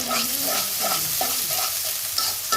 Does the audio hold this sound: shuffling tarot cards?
no